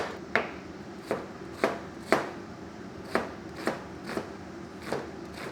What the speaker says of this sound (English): So let's start by first chopping up our onions.